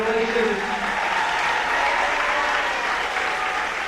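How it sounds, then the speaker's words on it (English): Audience applause at a fifth grade school celebration, a dense, steady clapping from a crowd that carries on for several seconds, with a voice speaking faintly under it at the start. "So one last round of applause."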